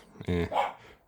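A dog barks outside, heard indoors as one short, muffled woof mixed with a person talking, slightly distant and brief.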